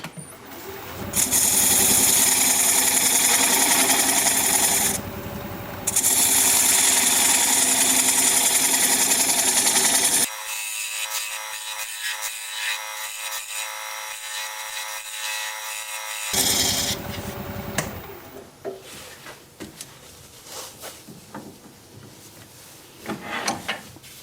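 A wood lathe turns a tenon on a bowl blank as a 3/8 inch bowl gouge cuts, a loud steady scraping hum with brief pauses and a long quieter stretch before cutting resumes more faintly.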